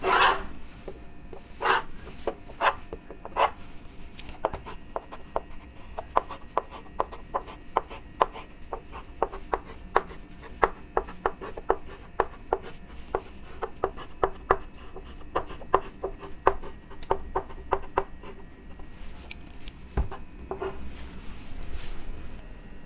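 Pencil strokes on drawing paper while a heading is written for a freehand machine-drawing sketch, a steady series of short, close, dry scratches and taps at an irregular writing rhythm.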